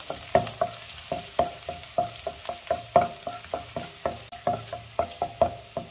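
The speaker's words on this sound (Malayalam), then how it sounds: "അതിൻ്റെ കൂടെ തന്നെ വെളുത്തുള്ളി അരിഞ്ഞതും ചേർക്കാം." Chopped garlic and curry leaves fry in hot oil for a duck curry. A steady soft sizzle runs under regular, close stirring scrapes and taps of a spoon against the pan.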